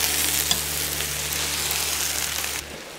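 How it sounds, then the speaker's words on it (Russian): Carrots sizzle and fry steadily in a cauldron for plov as they are stirred, a bright, continuous crackling hiss with a brief scrape of the stirring, alone and close. "морковь. Перемешаем. И дадим 5 минут размягчиться, обжариться."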